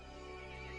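A horse neighs loudly and close in a short, dense burst, with a faint hint of hooves beneath, used as a dramatic sound effect in a spooky village tale.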